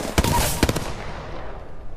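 Rapid automatic gunfire in Apex Legends on the World's Edge map: two close, loud bursts of shots early on, then a fading reverberant tail with faint scattered noise.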